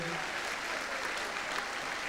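A hall audience at a carnival prince proclamation in Horst claps in a dense, even wash of applause, close and steady throughout the brief moment.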